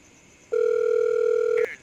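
A telephone dial tone sounds while a call is placed, a single steady electronic tone lasting about a second, clear and close.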